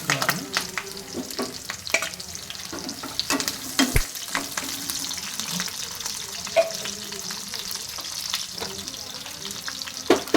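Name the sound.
onions, garlic and curry leaves frying in hot oil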